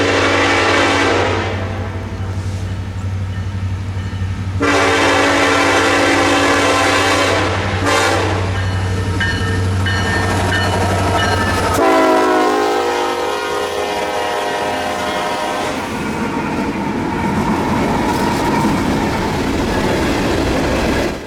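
Norfolk Southern train P96, a fast dedicated consist led by Reading heritage locomotive 1067, roars past close and loud through Cove City on the Carolina coast, with a sustained horn and the heavy rumble and clatter of passing cars.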